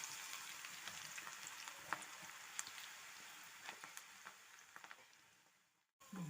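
Crumbled cabbage pakodi batter frying in hot oil, a dense even crackling hiss with a few light clicks from a utensil, fading briefly near the end before a short clatter.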